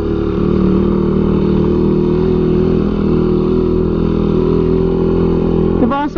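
A Raider 150 Carb motorcycle climbs uphill on the Laguna Loop with a loud, close, steady engine drone that rises sharply in pitch at the very end.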